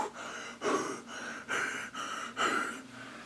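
Someone breathes onto an Under Armour football visor up close, with a slow series of about five loud, hissing exhalations separated by short pauses.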